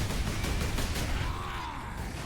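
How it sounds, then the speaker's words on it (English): Lascannon fire at orcs in the video game Warhammer 40,000 Space Marine comes as rapid bursts of blasts and crackling combat noise, with a sweeping tonal whine near the end, dense and continuous. "I really need to be using the las cannon to take out these orcs at a long range"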